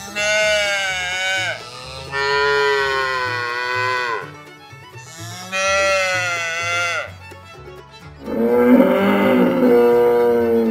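Farm cattle low in a series of long drawn-out moos, three similar calls with short gaps and a deeper, louder fourth near the end, close and clear with no talk.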